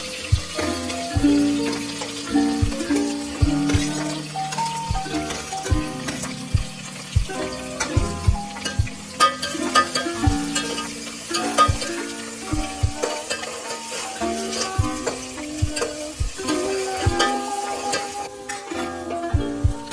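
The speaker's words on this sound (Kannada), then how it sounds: "ಅದನ್ನ ಇದಕ್ಕೆ ಮೆಣಸಿನ್ಕಾಯಿ ಆಮೇಲೆ ಈರುಳ್ಳಿನ ಆ್ಯಡ್ ಮಾಡಿ ಅದನ್ನ ನೀಟಾಗಿ ಫ್ರೈ ಮಾಡಬೇಕು" Green chillies and onions fry in oil for a chicken biryani, making a busy, close sizzle with frequent scraping and clinking stir strokes and some ringing metallic tones throughout, without talk.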